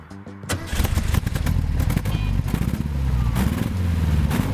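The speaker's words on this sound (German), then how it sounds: "Hinten aus dem Heck ein leichtes Brabbeln vom Boxermotor" Air-cooled boxer engine of a 1970s VW Brasilia, a classic Beetle engine with large cooling fan, burbling steadily from the rear at close range, with rhythmic low pulses and a brief quieter start.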